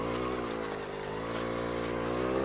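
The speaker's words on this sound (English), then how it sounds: "Too much of a grade for my little bike." Vintage Honda MR50 Elsinore motorcycle laboring up a steep grade, its small engine droning in a strained, steady buzz that rises slightly toward the end, close and continuous with no talk.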